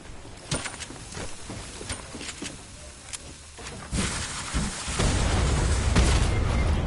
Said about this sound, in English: I was stuck in an explosion